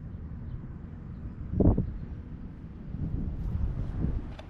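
Wind rumbles and buffets across the microphone in low, uneven gusts, with a brief louder whoosh near the start and no voices.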